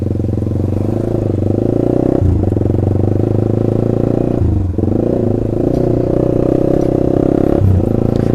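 Honda CBR150R motorcycle fitted with a loud aftermarket exhaust revs hard and close, its steady roaring drone broken by brief throttle dips around two, four and a half, and seven and a half seconds.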